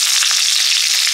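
Chopped onion hits a hot pan and fries, making a brief, loud, steady hiss of sizzle right up close, with no voices.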